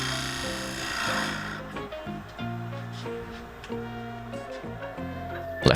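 Scraper cutting a claret ash live edge bowl on a wood lathe: a steady whirring rub of tool on spinning wood with humming tones, broken by short pauses and shifts in contact, ending in a sharp scrape.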